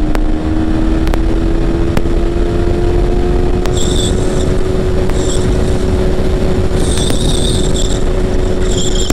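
A Yamaha MT-15 motorcycle engine drones steadily and loud as the bike accelerates, its pitch holding high and sustained with brief clicks and whines over the top.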